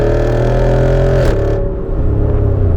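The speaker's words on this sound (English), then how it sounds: "And those upshifts, very unique sound as well." The V8 of a 2023 Jeep Wrangler 392 pulls hard, its note climbing, then drops with an upshift and resumes a deep steady drone, heard from inside the cabin.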